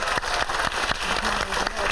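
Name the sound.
audience applause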